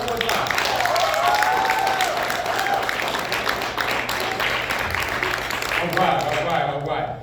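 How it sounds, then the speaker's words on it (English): Audience applause after a business seminar talk, dense clapping and cheering filling the room steadily for several seconds before tapering off at the end, with some voices mixed in. "Give yourselves a round of applause for that alone."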